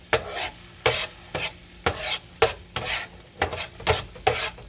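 Minced ginger frying in melted butter for a spicy honey-glazed salmon, with a bright steady sizzle punctuated by about nine rhythmic stirring scrapes, close and clear with no voices.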